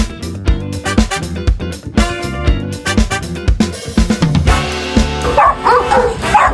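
Several dogs bark loudly and repeatedly at a kennel in Natividad, Pangasinan, where exotic bully dogs are kept, with sharp overlapping yips and woofs and a few whimpers in a continuous close chorus.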